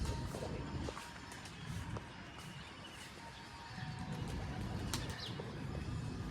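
A young pigeon lands as pigeons flutter and shuffle close by, with soft wingbeats and brief scuffles over a steady outdoor background hum.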